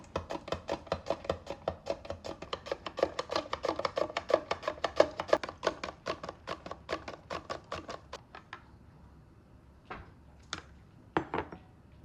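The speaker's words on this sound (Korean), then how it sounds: "친정엄마가 주신 오이를 썰어줍니다" A small, light kitchen knife slicing cucumber on a cutting board, close, rapid even chops for about eight seconds, then a few scattered knocks.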